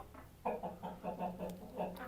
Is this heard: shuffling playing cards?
no